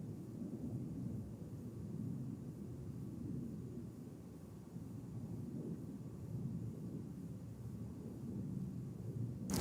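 Aircraft departing at night, a low distant engine rumble holding steady throughout, with a sharp noise at the very end.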